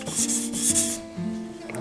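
A chef's knife stroked across a waterstone gives a few quick rhythmic rasping scrapes, close and crisp, with no talking.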